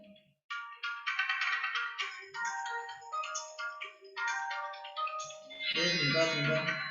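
A phone ringtone plays loud and close, a repeating melodic tune of bright electronic tones in short bursts with a denser electronic flourish at the end, no talking over it.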